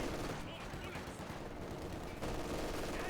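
Sustained MG42 machine gun fire in the strategy game Company of Heroes 2 roars loud and steady for several seconds amid dense battle noise.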